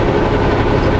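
Trains on the CN and CP tracks along a slow hill west of Kamloops, heard as a steady, continuous low rumble of rail traffic with engine drone, fairly loud throughout and without talk.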